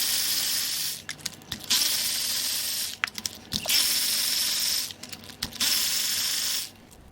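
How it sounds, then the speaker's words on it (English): A 1.5-litre turbo Honda Civic L15BA engine has its spark plugs removed during a teardown: a power tool whirs in several sustained bursts, broken by ratchet clicks and small metallic taps, close and steady. "We're going to pull the plugs and see what they look like."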